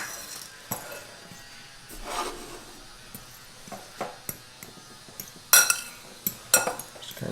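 Keto dumpling filling being mixed in a bowl gives soft scraping and stirring, broken by sharp utensil clinks against the bowl's side that come more often toward the end, all close and fairly quiet.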